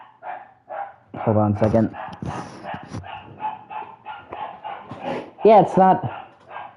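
A pet dog barks indoors, a few sharp loud barks in two clusters separated by quieter sounds, while someone talks nearby between them.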